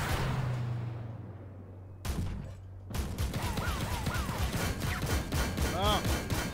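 Rapid-fire cannon of a BMP-3M infantry fighting vehicle in a combat video game, heard as dense bursts of sharp shots with a brief pause, under a steady engine rumble, with whooshing effects and faint voices in the background.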